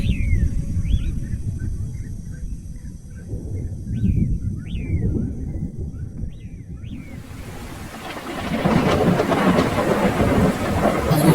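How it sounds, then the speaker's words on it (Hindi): Low rumbling thunder with birds chirping at first, then heavy rain bursts in, a loud steady downpour filling the last few seconds. "लगता है बहुत तेज बारिश होने वाली है।"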